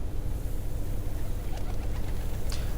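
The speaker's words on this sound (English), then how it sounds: "A bird." Soft cooing bird call in the video game Replaced, faint against a steady low engine-like rumble, with a few brief higher chirps near the end.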